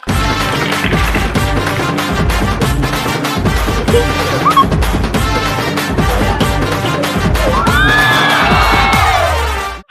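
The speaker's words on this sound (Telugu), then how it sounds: "Clap for her." A studio audience on a television comedy show claps in dense, rapid applause over music, with whoops and cheers rising toward the end.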